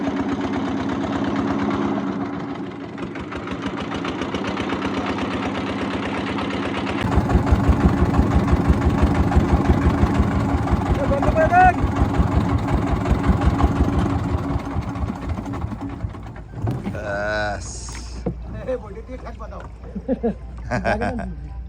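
A trawler boat's engine chugs in a steady, close, rhythmic throb that grows heavier partway through, with voices talking over it near the end.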